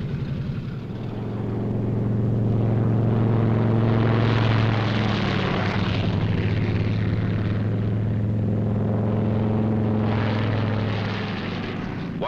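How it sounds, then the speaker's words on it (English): WWII fighter aircraft, P-38s among them, take off in pairs with a loud, steady propeller engine roar that swells and holds throughout and fades slightly at the end, with no voices. "Takeoff by twos on the quarter minute."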